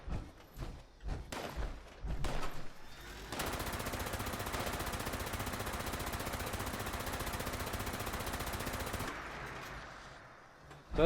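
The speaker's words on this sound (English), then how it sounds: "Something's shooting at your turrets or shooting at your base." Sustained automatic gunfire in Fallout 76, a Scorched enemy firing down on base turrets that do not shoot back. A few scattered shots come first, then a long, dense, steady stream of fire that cuts off abruptly near the end.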